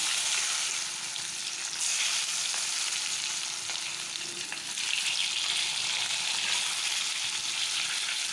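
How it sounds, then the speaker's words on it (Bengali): Potato and taro pieces fry in hot oil, a continuous dense sizzle with faint stirring scrapes and small pops, steady and close throughout with no voices. "এখন এই তেলের মধ্যে আমি আলু আর সরাজ কচুটা ভেজে নেব"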